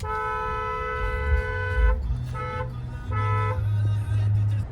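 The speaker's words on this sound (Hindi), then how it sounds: "हॉर्न कंटिन्यू, हॉर्न बजाओ।" A car horn honks in several sustained blasts with short gaps, close and loud, sounding from a car during a beginner driving lesson on the road, with low engine rumble underneath.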